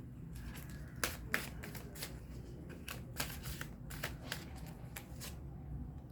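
Oracle cards are shuffled and drawn by hand, a run of quick papery riffles and soft snaps with small flicks and slides between them, close and quiet.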